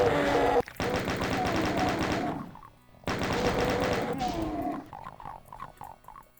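Exploding barrels blasting imps in Doom, level E1M5 Base Ganymede: two loud, sharp blasts a few seconds apart, each ringing into a dense roar, with snarling monster growls trailing after.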